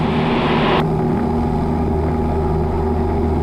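A Cessna 172 engine at full power during the takeoff roll gives a loud, steady propeller drone close by, with a brief burst of brighter hiss at the start before the roar settles.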